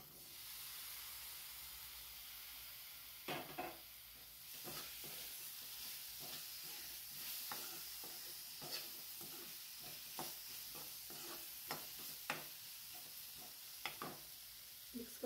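Spiced mushrooms hiss and sizzle in a pan, with a spatula repeatedly scraping and knocking against the metal as they are mixed. The steady frying runs throughout, broken by sharp, irregular stirring clicks.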